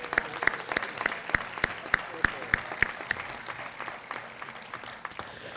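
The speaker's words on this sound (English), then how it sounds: "And so let's give Ted a huge birthday round of applause." A roomful of people applauds, with steady, fairly even clapping that gradually thins out and fades toward the end.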